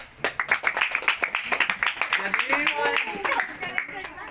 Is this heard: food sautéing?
no